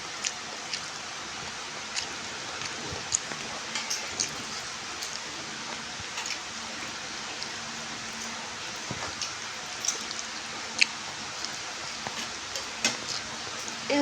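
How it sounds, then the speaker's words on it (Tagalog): Steady rain falls in a continuous hiss, broken by scattered sharp drips and ticks landing on a nearby surface, with no talking. "Umuulan po dyan ngayon."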